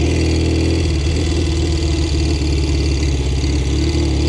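A motorcycle engine runs close by, a loud, steady mid-pitched drone with a faint pulsing rhythm, alone and without talk.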